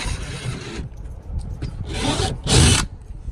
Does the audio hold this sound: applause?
no